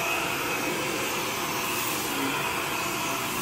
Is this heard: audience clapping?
no